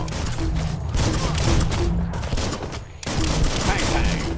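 Rapid gunfire in the action game Biomutant, a dense, loud stream of shots and impacts that barely pauses, with a brief dip before the firing surges again; a voice speaks briefly underneath.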